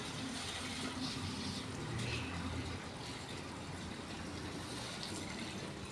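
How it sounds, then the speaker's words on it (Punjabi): A motor-driven pump pushes water through a pipe into a bucket for cattle, making a faint, steady gushing rush that carries through the whole stretch with no talking. "ਮੈਂ ਮੋਟਰ ਚਲਾ ਕੇ ਤੇ ਮੈਂ ਇੱਥੇ ਹੀ ਰੱਖਤੀ ਅੱਗੇ ਬਾਲਟੀ ਤੇ ਪੈਪ ਨਾਲ ਜੀ ਪਾਣੀ ਪਾ ਦਿਆਂਗੀ"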